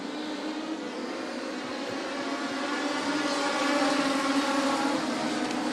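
Race cars on a dirt track at Maquoketa Speedway roar together at a restart, a dense steady engine drone that swells louder midway, heard from the grandstand at some distance with no talking.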